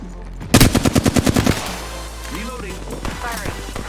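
Rapid automatic gunfire in a squad shooter video game, a loud close burst of about ten evenly spaced shots, followed by quieter voices talking in the background.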